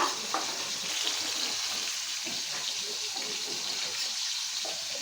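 Tilapia pieces fry in oil in a pan, a steady, close sizzle with faint stirring and clinking, at a moderate level without talk.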